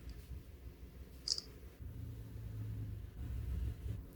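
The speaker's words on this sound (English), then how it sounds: "Take a screenshot." Screenshot capture on a Samsung Galaxy S25 Ultra, a single brief shutter-like click standing out over faint low background rumble.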